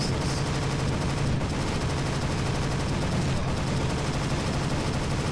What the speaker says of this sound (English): Where's that light machine gun at?